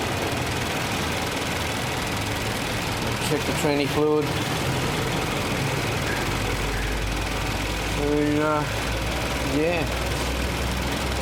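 A 2008 Hyundai Elantra with 200,000 km on it idles as it warms up, a steady low engine hum throughout with faint ticking, while people talk briefly over it.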